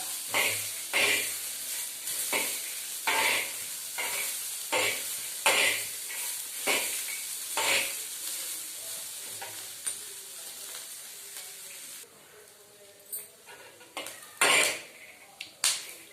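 Ingredients fry in a pan with a steady hiss, while a utensil stirs and scrapes them in repeated sharp strokes roughly every second, loud and close, with a few louder scrapes near the end.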